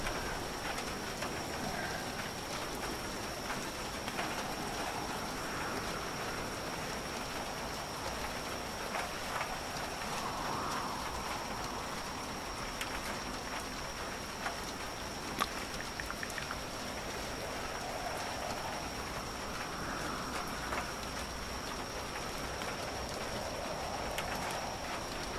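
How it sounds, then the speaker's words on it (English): Steady rain falls in the PC horror game The Bathhouse, a constant soft hiss of drops with faint swells, heard alone at low level throughout, with a thin high electronic tone running underneath. "Raining."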